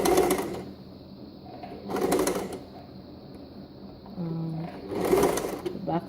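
Close sewing machine runs in three short bursts of rapid stitching on an exposed zipper, with quiet gaps and a faint hum between them.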